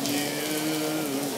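Steady rain falls with drips coming off a roof, making a close, continuous patter with a faint hum underneath.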